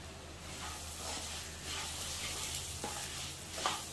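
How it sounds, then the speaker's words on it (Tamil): Broken wheat roasting in hot ghee, a soft, faint sizzle and hiss with light stirring scrapes throughout. "இதில் இந்த புரோக்கன் வீட் உடைச்ச கோதுமையை போட்டு நல்லா வறுத்துக்கலாம்"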